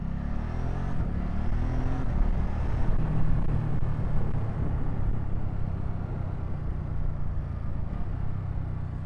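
A 2024 Ducati Supersport 950 S motorcycle ridden hard in sport mode, its engine droning steadily with rising and falling revs and constant wind rush, loud and close throughout, with no talking.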